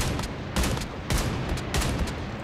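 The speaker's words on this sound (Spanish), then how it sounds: "acá están disparando de aquí, creo" Gunfire rattles through a shooter video game match in rapid bursts, with loud volleys cracking at roughly half-second intervals over a dense, noisy background of constant shooting.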